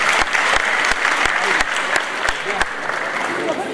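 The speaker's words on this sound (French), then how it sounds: "Applaudissez s'il vous plaît, merci." Steady applause from a pageant audience at a Miss Mali France election, dense clapping with a few sharper claps standing out, sustained and fairly loud throughout.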